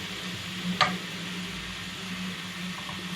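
Mince mixture for a Slimming World lasagna is stirred in a frying pan, giving a soft steady sizzle with a single sharp scrape of the spoon against the pan, heard alone with no talk.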